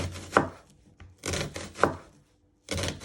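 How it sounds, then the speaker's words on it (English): A knife slicing an onion into thin strips on a board, a few distinct, close chopping thuds spaced apart with short pauses between them. "you just want to finely slice your onion into thin strips"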